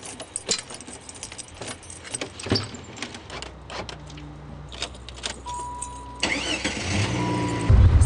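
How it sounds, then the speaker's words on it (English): Keys jangle in several bright bursts, followed by a car engine cranking and starting, then settling into a steady idle close by. "He distorts the natural sounds of things such as keys and door locks"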